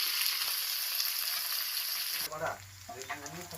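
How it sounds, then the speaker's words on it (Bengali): Onions fry in a pan for a home lunch, giving a dense, loud, even sizzle that shifts partway through into a lower hiss with a faint rumble underneath. "আবার পেঁয়াজটা ভেজে নিলাম"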